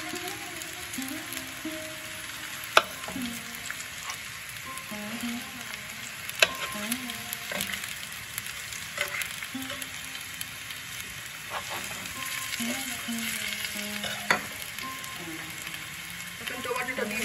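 Continuous frying sizzle from potatoes browning in a pan for aloor dum, with occasional clinks of utensil stirring, heard up close without speech over it.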